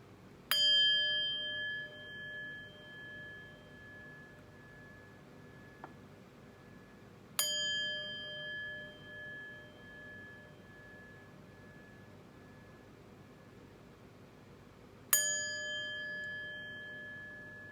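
A chime rings three times at spaced intervals. Each stroke is a clear metallic tone that rings out and slowly decays in an otherwise quiet room.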